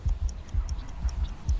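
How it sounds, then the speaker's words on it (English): A heartbeat thumps loud and low in a regular throbbing pattern, accompanied by faint high ticks like a clock. "you can all hear your heartbeat. It's now increasing faster and faster. It's very loud."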